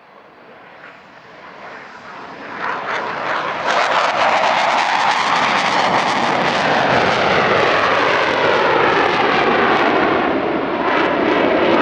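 A Dassault Rafale with twin reheated M88 turbofans roars past at an airshow near Paris, building from a distant rumble to a loud, sustained jet blast with crackling afterburner texture that holds steady to the end.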